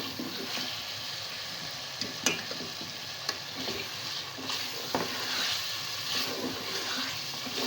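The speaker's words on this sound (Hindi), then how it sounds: "सब्जियों में सबसे पहले मैं आलू डालूंगी। और इसको थोड़ा सा इसके साथ भून लूँगी।" Potatoes frying in a pan for a mixed vegetable curry, a steady close sizzle with occasional scraping stirs and light clinks throughout, no talking.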